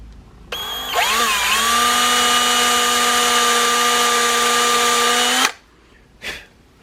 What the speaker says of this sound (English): so we're going to try and drill it first